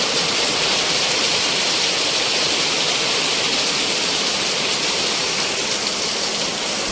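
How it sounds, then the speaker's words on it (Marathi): Heavy rain pours steadily while strong wind blows on a stormy night, forming a loud, constant rushing roar with no pauses. "खतरनाक वाला पाऊस खतरनाक वारा बिरा अडत सुटलाय"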